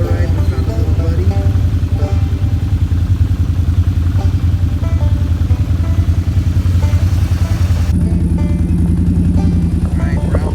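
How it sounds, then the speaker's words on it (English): Four-wheeler ATV engine drones steadily during an outdoor ride, a close, loud, continuous mechanical hum with clattering, the pitch shifting near the end. "Alright, we're out on a four-wheeler ride."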